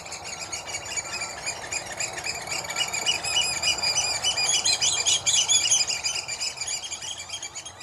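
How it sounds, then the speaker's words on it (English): Oystercatchers in a large winter flock piping loudly, a dense chorus of shrill overlapping calls that runs unbroken throughout, building slightly toward the middle, with no voices present. "in winter form large flocks that fly around piping loudly"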